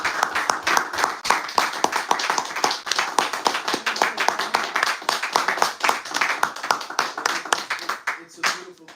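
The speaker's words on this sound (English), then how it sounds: "Hand claps, man." Rhythmic hand claps from a church congregation at a GMS Chicago elder and bishop service ring out steadily throughout, a dense run of sharp slaps with a voice talking and calling over them.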